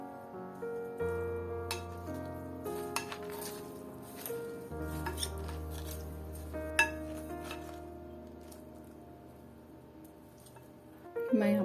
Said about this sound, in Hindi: अब ये मैं ड्रेसिंग डाल दूंगी इसमें, जो ड्रेसिंग तैयार की थी मैंने। इसको अच्छे से मिक्स कर लेंगे।